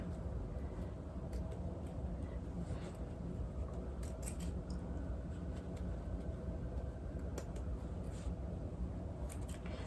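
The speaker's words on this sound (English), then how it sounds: "I'm just going to cut off the excess part of it." Scissors trim loose excess thread from a blazer, a few faint snips scattered over a steady background hum.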